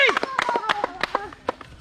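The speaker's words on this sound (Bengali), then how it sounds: "সবাই হাততালি।" Sharp, irregular hand claps from children at a balloon-bursting coupon game ring out close by, mixed with chatter and voices.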